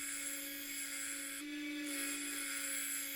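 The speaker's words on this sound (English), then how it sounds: "So just refining it with the grinder" A Harbor Freight grinder shapes a railroad spike pizza cutter, a steady high whine with a bright abrasive rasp that dips briefly as the metal is pressed into the wheel, close and continuous.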